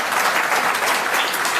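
Dense, steady applause from a crowd at a political rally in Punjab, a continuous wash of clapping filling the whole moment without a break.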